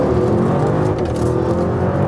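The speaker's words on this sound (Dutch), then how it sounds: "Dit is gewoon echt een lekkere V8. Klinkt goed." A Bentley Bentayga V8 engine in sport mode revving steadily, a dense, loud, continuous engine drone heard close up with no talking.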